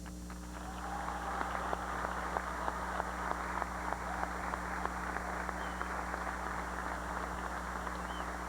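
Faint, steady applause from an audience at a 1987 high school graduation ceremony honoring students, a continuous patter of clapping heard from a distance over a constant hum.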